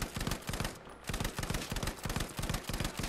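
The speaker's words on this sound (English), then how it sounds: "Lewis gun's a beast." Lewis gun firing in Battlefield 5 on Mercury, a rapid steady stream of loud automatic shots with a brief pause near the one-second mark before the burst resumes.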